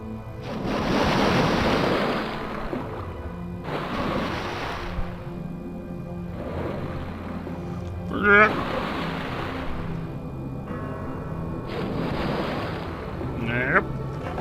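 Water surges in repeated wave-like washes in Spooky's Jump Scare Mansion video game, loud rushing bursts every few seconds over a steady background, with brief vocal sounds breaking in twice.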